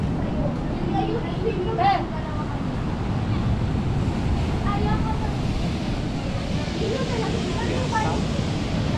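Loud, continuous surf rolls and crashes close by at a La Union beach at high tide, a heavy roar of breaking waves with wind buffeting the microphone.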